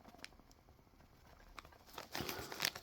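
Thin plastic bag crinkles softly as a £1 coin is pushed through it, faint scattered rustles building to a louder, close crackling burst near the end, quiet overall with no talk.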